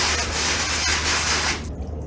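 A steady, loud hiss of water sprays over a newly bought car during rinsing, broad and continuous before cutting off sharply near the end.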